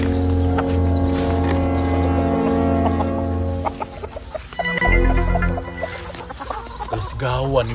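Chickens cluck and a rooster calls close by, mixed with other busy background noise and some voices.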